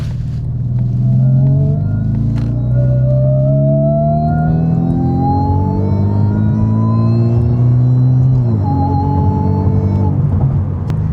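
Supercharged Mazda 3 driving, its engine droning steadily and rising in pitch as it accelerates through gears, with a brief dip near the end before climbing again; loud, close, interior perspective with no talking.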